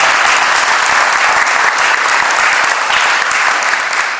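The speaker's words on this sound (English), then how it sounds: "Let's give them a round of applause." Loud, dense applause from an audience at an intermediate school Veterans Day program, a steady wash of many hands clapping that holds for several seconds and eases slightly at the end, with no talk over it.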